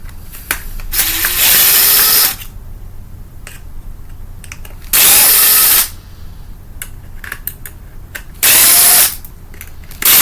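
Power tool whirring in three sustained bursts while taking apart a Cuisinart coffee maker and removing its screws, with clicks and small mechanical knocks in the quieter gaps between runs.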